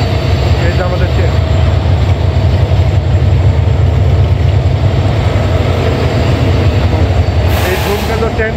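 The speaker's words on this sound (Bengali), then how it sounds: "এই যে আমাদের ট্রেন।" The Dhumketu train rumbles loudly and steadily with a deep, continuous rolling roar from railway carriages, heard from on board near the Jamuna rail bridge.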